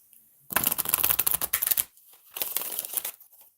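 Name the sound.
tarot cards being shuffled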